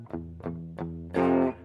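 Distorted electric guitar plays a riff: three short chugged notes followed by a longer, brighter ringing chord, loud and close with no talking.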